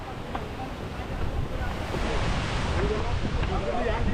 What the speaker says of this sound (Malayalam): finally we are almost reached here, Neer waterfall